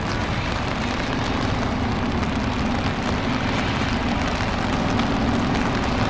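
Steady rain falls outdoors in a continuous, loud broadband hiss that stays even from start to finish, with no voices.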